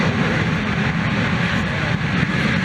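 A Super Chipmunk aerobatic airplane accelerates out for takeoff at an air show, a loud, steady propeller-engine roar that holds throughout with no talk over it.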